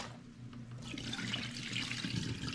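Starchy, cloudy rinse water pours off washed rice during the first of three washes, a steady rushing splash and trickle that swells after the first moment and continues without pause.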